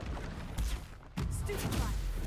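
Spells firing in Hogwarts Legacy, a Stupefy cast landing as a sharp crackling blast, then a second burst after a brief gap, over busy game noise with a voice calling out.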